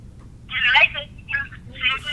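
A telephone rings in short warbling bursts during a Tennessee Athletic Commission meeting, fairly loud and close over a low background hum.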